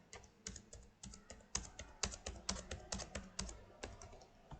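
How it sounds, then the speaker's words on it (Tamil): Typing on a computer keyboard for a Google Sheets entry: close, crisp key clicks in an uneven rhythm of quick clusters and short pauses, with no voices. "நேம் என்ன பண்ணுறேன்னு கேட்டிங்கன்னா நம்ம டைப் பண்ணிடுறோம்."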